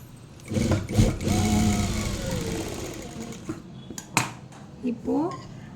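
A sewing machine stitches a folded fabric neck design, with short bursts of close motor whirring and needle clatter, a few sharp clicks and someone talking between runs.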